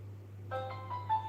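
Toy-like phone plays a short electronic melodic ringing tune, several bright beeping notes over a steady low hum, fairly quiet and without voices.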